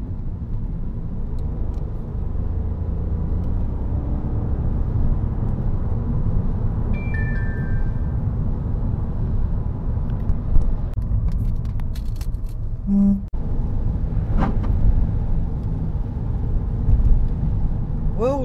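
A car drives along a wet road on a scenic UK pass, its steady engine and tyre rumble continuous throughout, with a few faint passing sounds over the hum.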